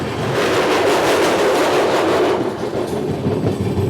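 Visakhapatnam–Mumbai LTT superfast express train running near Rayagada, a loud continuous close-up roar of wheels and rails with rhythmic clickety-clack, heard alone without talk.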